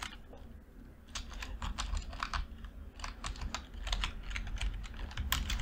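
Quiet, close typing on a computer keyboard, with a steady stream of light key clicks running throughout.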